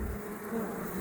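Honeybees in a hive drone with a steady, close, continuous buzz over a brief moment, with no voices.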